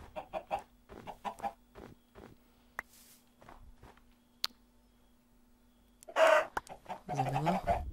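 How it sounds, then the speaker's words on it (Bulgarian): Chickens clucking in the video game Minecraft, a series of short, close, separate cluck calls and soft footstep ticks across quiet stretches, followed by a louder burst of flapping and squawking near the end. "Гледай сам кокошки."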